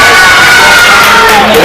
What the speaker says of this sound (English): Lots of clapping defensively.